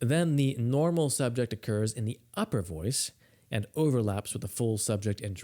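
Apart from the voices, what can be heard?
None of the usual background noises is heard.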